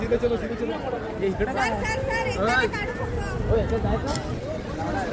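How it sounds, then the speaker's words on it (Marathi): Busy crowd babble fills the grounds of the famous Mahishasura Mardini temple, a steady murmur of many overlapping voices at moderate level, with some nearer speech rising above the general hubbub. "इकडे गर्दी तर भरपूर आहे कारण फेमस मंदिर आहे"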